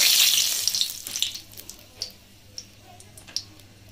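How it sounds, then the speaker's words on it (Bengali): Two cardamom pods dropped into hot oil for a Bengali shol fish dish give a brief burst of hissing sizzle that quickly fades into a few scattered, sharp little pops and crackles, close and fairly quiet. "তেল গরম হয়ে গেছে, এতে দিয়ে দিচ্ছি দেখুন 2টো এলাচ, এটা ফাটিয়ে দিয়েছি"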